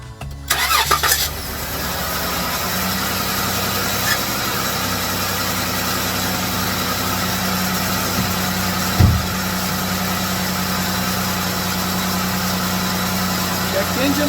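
A Dodge engine cranks and catches, then settles into a steady, loud idle with a low hum that runs throughout, with one brief bump partway through.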